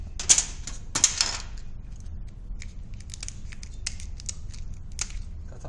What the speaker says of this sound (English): so you use scissors